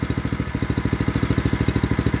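A Power Fist water pump powered by a brand new Honda engine runs steadily nearby, its small engine chugging in a fast, even pulse throughout with no talk.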